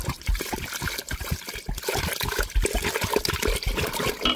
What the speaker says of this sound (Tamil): பச்சை அரிசியை தண்ணி ஊற்றி கழுவி எடுத்துக்கிறோம்